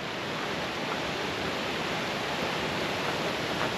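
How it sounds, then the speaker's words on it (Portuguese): A small stream with a little waterfall in Gerês, Portugal, near a green pool, pours toward a river, a steady close rushing hiss of water that stays even throughout with no voices. "Tem um pequeno córrego aqui, ó, uma quedinha."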